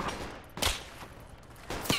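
Gunfire in the tactical shooter Project Reality, two sharp distant bursts about a second apart, each a short broadband crack that fades quickly, with no voices during the shots.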